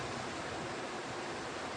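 Ocean waves wash steadily onto a beach, a dense, continuous broadband roar of surf with no distinct breaks, close and fairly loud, with no voices.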